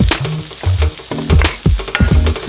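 Onions sautéing in oil for a vegan chicken pot pie crackle and sizzle up close, broken by repeated clattering scrapes of a spoon stirring the pan, with no voices.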